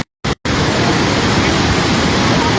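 Lahar floodwater from Mount Semeru rushes down a river in East Java after heavy rain: a loud, dense, unbroken roar that starts after a brief gap and a short burst.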